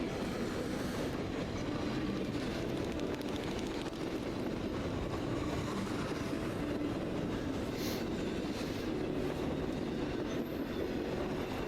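A train rolls past on the rails, loud and continuous, with steady rumble, wheel clatter and occasional squeals for about twelve seconds and no voices.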